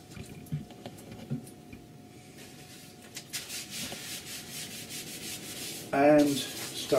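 Kitchen towel soaked in citrus oil rubs liming wax off wood with soft, close wiping and scrubbing strokes that grow denser toward the end, followed by a brief louder rustle.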